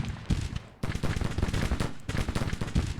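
Dense small-arms volleys mixed with heavier artillery booms from Grand Tactician: The Civil War pound continuously, with a brief lull before the firing resumes just as loud.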